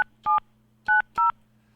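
Telephone keypad dialing tones come through during a live radio call-in broadcast: four short, clear beeps in an uneven sequence over a low, steady electrical hum.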